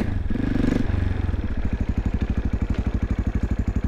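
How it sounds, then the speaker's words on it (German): A KTM LC4 690 single-cylinder engine idles with its valve clearance audibly ticking, a fast steady mechanical tick riding over the thumping idle after a brief louder rev at the start, close and loud. "Dieses Tick, Tick, Tick, Tick, Tick, Tick. Das ist euer Ventilspiel."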